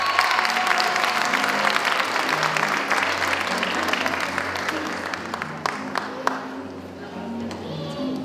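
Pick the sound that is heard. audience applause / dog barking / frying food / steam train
audience applause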